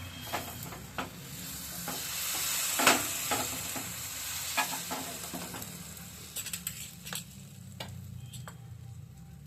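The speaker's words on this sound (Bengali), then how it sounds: "আমি পিঠে ভাজাটা শুরু করব এখন।" Patishapta pitha batter sizzles in mustard oil in a pan on a gas stove, a steady close crackle broken by sharp ticks and scrapes, with no talking.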